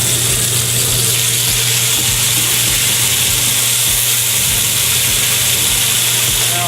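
Mushrooms hit a hot sauté pan and set off a steady, broad sizzling hiss that holds evenly throughout, with a low rumble of kitchen noise beneath it.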